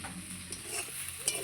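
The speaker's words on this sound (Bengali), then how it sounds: "খুব সুন্দর করে পাট শাকটা আমি ভেজে নিয়েছি।" Jute leaves fry in a pan with a soft, steady sizzle and occasional stirring scrapes, quiet and close.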